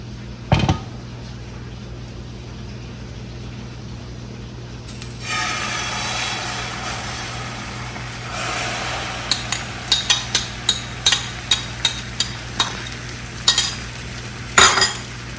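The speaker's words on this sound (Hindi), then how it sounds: "हम जो अपने अंडे हैं उनको करेंगे फ्राई" Eggs frying in oil in a pan for a street-style sandwich: a steady, moderate sizzle begins partway through, followed by a run of sharp utensil taps and clinks against the pan, with no voices.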